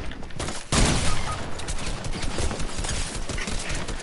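Dense, continuous gunfire in a PS4 shooter, a loud rattling fusillade of rapid shots that barely lets up, close and heavy throughout.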